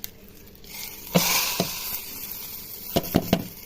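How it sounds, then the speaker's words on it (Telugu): Tempering spices (cumin, mustard seeds, chilli) hit hot oil for coconut chutney with a sudden burst of loud sizzling hiss, which settles into steady frying, followed by a few sharp crackling pops. "ఇప్పుడు తాలింపు వేసేస్తాను"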